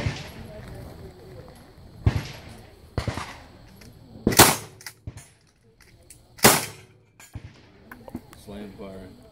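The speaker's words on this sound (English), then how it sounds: "Slam fire." Gun slam-firing: several sharp, loud cracks go off at irregular intervals with quieter clatter between them, and people talk around the shots.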